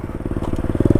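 Motorcycle engine revving hard as the rider pulls a wheelie on the road, a close, loud pulsing rumble that climbs and grows punchier toward the end.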